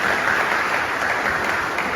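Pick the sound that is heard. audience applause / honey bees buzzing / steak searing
audience applause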